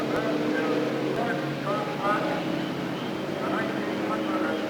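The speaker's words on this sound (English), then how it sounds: "33 engines come to life, and the field begins to move behind the pace car." A field of 33 IndyCar race cars at the 1975 race, engines running as they roll off behind the pace car, a steady loud blended drone that holds without a break.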